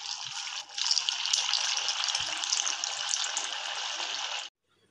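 Sabudana vada fry in hot oil with a steady, close hiss that runs evenly for about four and a half seconds and then cuts off abruptly into silence.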